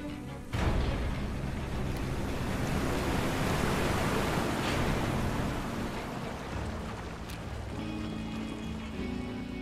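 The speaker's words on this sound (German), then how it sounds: "Aber schöne Wassereffekte, muss ich sagen." Rushing water in Final Fantasy 7 Remake roars in a loud, steady wash that swells abruptly and continues without pause, surf-like and close.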